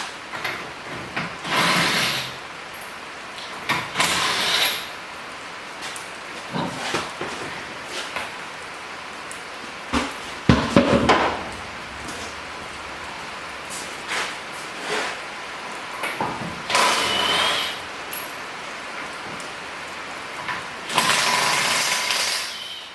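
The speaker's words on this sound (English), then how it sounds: "I'm gonna go ahead and pull the wheels off" Wheels come off a car during a track coupe rebuild in a workshop, with bursts of an air impact wrench or ratchet, metallic clunks and scraping handling noises between quieter gaps, close by and without talk.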